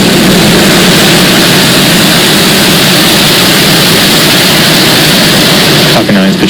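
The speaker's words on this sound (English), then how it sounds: "Ignition. And liftoff." Falcon 9 rocket engines roaring at liftoff on a Starlink launch, a loud, steady broadband rumble filling the whole stretch without a break, with a brief change right at the end.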